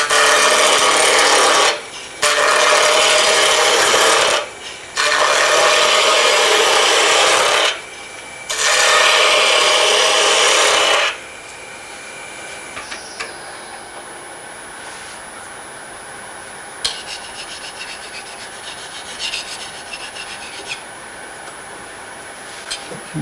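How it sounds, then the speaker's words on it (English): Squared wood turned on a lathe with a spindle gouge, cutting in four loud, close, sustained rasping bursts separated by short gaps. Faint workshop noise follows once cutting stops. "I'm just going to use a spindle gouge."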